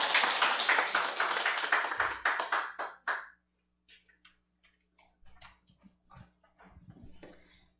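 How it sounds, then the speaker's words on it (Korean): An audience gives applause to welcome a speaker, a burst of many hands clapping for about three seconds that then fades to a few scattered faint sounds and light shuffling. "박수로 환영합시다"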